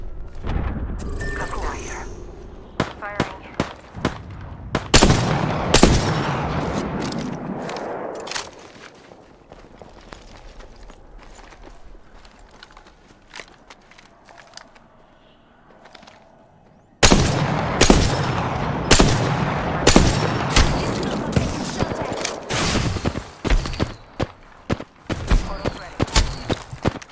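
Gunfire in Apex Legends, with rapid bursts of shots and clattering footsteps, loud and close, fading into a quieter stretch before a heavy barrage of repeated shots resumes.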